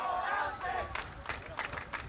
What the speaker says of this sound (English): Pretty lively crowd here on senior night at Crump Stadium out in A-Leaf, Texas.